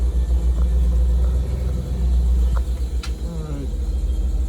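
A 2026 Blue Bird Vision school bus engine settles into a deep, steady running rumble just after cranking up. A few small knocks and a faint voice sit briefly over the throbbing low drone.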